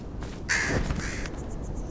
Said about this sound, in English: Freaking bird that flew at me again